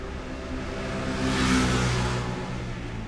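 Noisy street traffic drifts in through an open door as a steady wash of rumble, with one vehicle swelling louder as it passes midway before the hum settles back.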